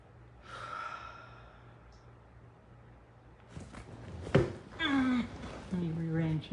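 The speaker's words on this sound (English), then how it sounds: "Okay, everybody take some deep breaths." Deep breaths are drawn outdoors on grass during a guided heart-focused breathing exercise, with a soft breathy sigh early on, then louder exhales and voiced, sighing sounds toward the end, close to the microphone.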